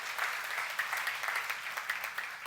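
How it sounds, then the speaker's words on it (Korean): A church congregation applauds during a sermon on the Psalms, a steady, fairly faint patter of many hands clapping at once, dense and even throughout with no voices on top. "박수로 맞으세요"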